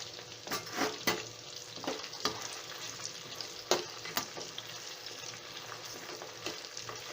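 Sliced onions frying in oil after chicken pieces, a continuous close sizzle punctuated by several sharp spatula knocks and scrapes against the pan.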